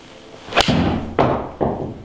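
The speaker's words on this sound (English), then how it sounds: "I've just mishit a 4-iron there" A mishit 4-iron shot with a TaylorMade M5 or M6 iron: a sharp club-on-ball strike followed by two more dull thuds, close and alone without talk.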